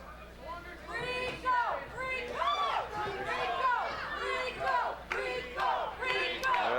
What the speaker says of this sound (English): The crowd is definitely behind him.